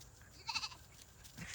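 A goat on a small farm gives a short, faint bleat in the middle, followed by another soft animal call near the end, with no talk over it.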